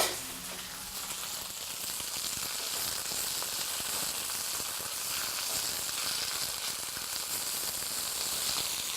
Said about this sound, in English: You want to hear that pop. You want to hear that sizzle.